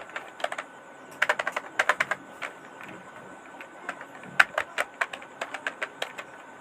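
Keys clack on a computer keyboard while text is typed into an MS Word bill book, in quick uneven bursts of close, crisp taps separated by short pauses.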